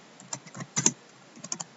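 Quick, light keystrokes on a computer keyboard as a quiz question is typed, arriving in short irregular bursts of clicks, close and fairly quiet, with no talking.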